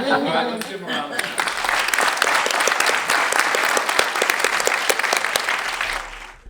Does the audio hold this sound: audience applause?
yes